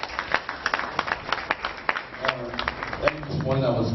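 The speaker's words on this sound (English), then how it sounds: "Let's clap for VC." Audience at a university inaugural lecture clapping for the vice-chancellor, a scattered, fairly sparse patter of hands in the room that fades as a voice begins speaking toward the end.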